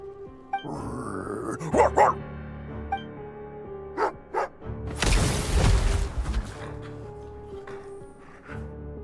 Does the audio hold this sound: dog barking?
yes